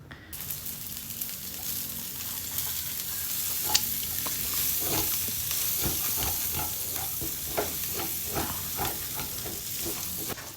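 Garlic fries in a pan for stovetop baked macaroni, a soft, steady sizzle broken by repeated scraping stirs of a spatula, with no one talking.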